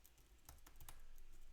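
Close keystrokes rattle on a computer keyboard in a quick, uneven run of clicks, with no one speaking.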